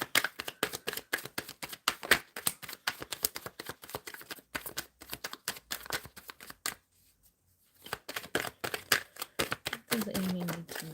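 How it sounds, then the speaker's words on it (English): Tarot cards shuffled in rapid bursts of crisp riffling and slapping, loud and close, with a brief pause partway before the shuffling resumes. "Shuffling for Amy."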